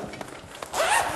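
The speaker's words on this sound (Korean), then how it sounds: "지퍼를 열면" A zipper on the carrying bag of a four-leg folding easel (model HBN-250) is pulled open in one quick, close, fairly loud rasping stroke after a brief quiet moment with faint handling noises.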